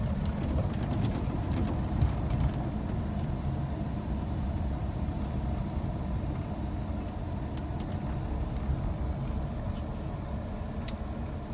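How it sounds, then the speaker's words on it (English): A Ford with a select-shift transmission rolls over gravel, giving a steady, close, rumbling crunch of tires on loose stones under low engine noise, continuous without pauses. "which is going to be a little loud because we're on the gravel"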